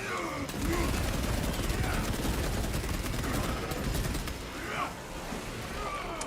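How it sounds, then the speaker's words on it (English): Rapid cannon and gunfire in a Space Marine video game, dense bursts of shooting rattling on continuously amid battle noise, with a voice talking over it. "Score my armor with cannon fire."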